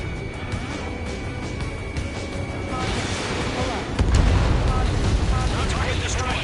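A destroyed target explodes in the combat flight game Ace Combat 7: Skies Unknown, a deep, rumbling boom that swells midway and lingers over a steady roar of engine noise, with voices talking over it.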